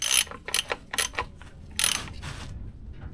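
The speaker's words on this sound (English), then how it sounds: "so let's replace the sump plug" Ratchet clicking in quick bursts as a sump plug is refitted on a Porsche 996 during an oil service, several sharp close ratcheting runs separated by short pauses, then quiet.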